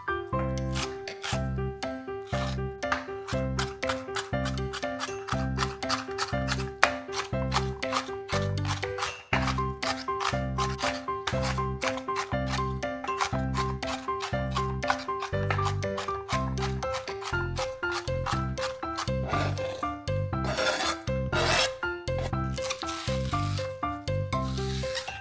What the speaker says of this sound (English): take the half onion and chop it very finely